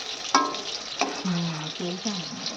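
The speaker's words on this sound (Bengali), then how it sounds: "তো এখন বেগুনটা ভাজা হচ্ছে।" Eggplant frying in a pan in a Bengali village kitchen, a steady sizzle with stirring scrapes and a few sharp clinks, all close and moderately loud.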